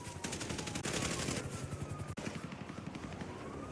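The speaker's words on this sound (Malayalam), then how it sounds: "മോബി, മുച്ചിരിയാണ് ഫയർ ചെയ്യുന്നത്." Rapid bursts of automatic gunfire rattle continuously during a GTA roleplay gang war, dense overlapping shots from several weapons with one sharper crack standing out, fairly loud throughout.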